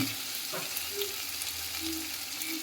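Mutton curry with ginger paste being stirred while it fries in the pan, a continuous close sizzle under light scraping movements, with no voices.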